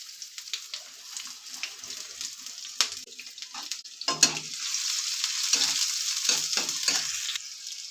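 Onion going into hot oil in a pan, quiet at first with scattered clicks and utensil knocks, then swelling into a steady frying sizzle with stirring scrapes, close by and without speech.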